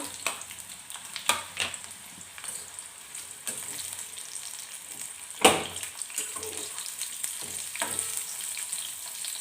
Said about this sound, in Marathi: मी याच्यामध्ये थोडीशी ते फ्राय करून घेणार आहे तेलामध्ये